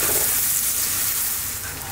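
Onions, garlic and spices frying in a pan over above-medium heat for a shrimp cream garlic pasta, a steady loud close sizzle and hiss that holds evenly without break, no talking over it.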